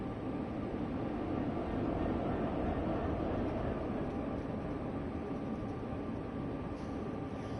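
Low rumbling drone of a simulated train hauling a BNSF grain hopper wagon in Train Sim World 3, a steady, even rolling hum with faint higher hiss and no speech.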